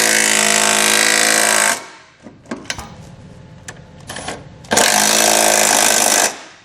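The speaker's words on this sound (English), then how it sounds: "use a 17mm socket to tighten those down" A powered impact tool drives 17mm socket bolts while a Curt trailer hitch receiver is fitted to a 2019 Honda CR-V, two loud sustained bursts of rattling hammering, separated by quieter clanks and handling noises.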